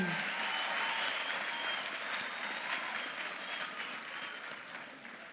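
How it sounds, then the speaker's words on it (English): Sustained audience applause at a graduation ceremony, a dense wash of many hands clapping that fades gradually toward the end. "Let's give them one more round of applause, please."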